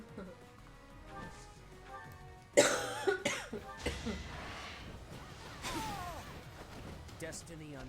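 A woman's few sharp, harsh coughs burst out close by, followed by quieter rough throat sounds and faint background noise.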